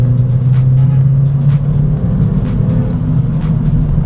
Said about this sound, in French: Là, on sent que la voiture elle est brinque-ballée dans tous les sens.